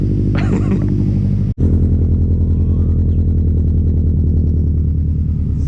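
A loud, steady rumbling exhaust idling close by on a Toyota AE86, with one brief drop-out partway through, then continuing unchanged.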